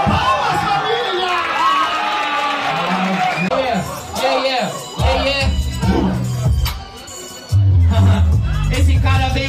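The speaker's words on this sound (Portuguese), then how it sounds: "Palmas, família!" A lively crowd cheers and whoops, with shouting voices and a burst of noisy applause building toward the end.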